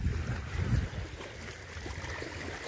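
Water of the Río de la Plata river along the Buenos Aires shore laps and washes with wind, a rough, steady rumble that is louder at first and then settles.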